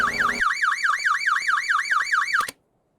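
A fire alarm aboard a ship in the Stormworks video game gives a loud, rapidly warbling electronic siren that repeats in fast cycles for about two seconds and then stops abruptly, leaving silence.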